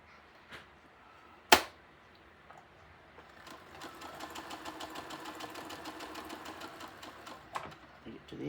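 A sewing machine stitches a quilted cow head, a brief sharp click first, then a steady rapid run of needle strokes that carries on to the end, close and moderately loud.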